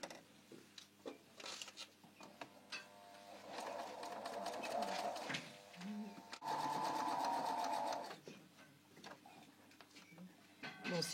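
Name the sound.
sewing machine stitching a zipper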